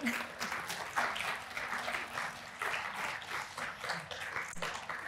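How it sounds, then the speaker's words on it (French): An audience applauds a speaker at a talk on teenagers and TikTok, a fairly soft, steady wash of clapping from a seated crowd, continuous throughout with slight swells. "Je pense qu'on peut l'applaudir."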